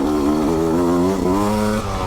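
A 2020 Beta 200RR two-stroke dirt bike revs on mountain single track in late autumn, its engine close and loud, climbing and dipping in pitch in steady, buzzy pulls.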